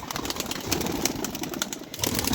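Pigeons at a pigeon farm, including small white birds, with soft cooing and wing flutters in a steady, busy bird chorus close by, no talking.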